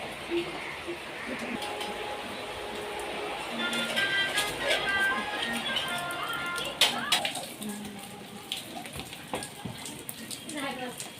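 Light rain patters steadily in a village, a soft continuous hiss with scattered drops on surfaces, heard beneath people talking nearby.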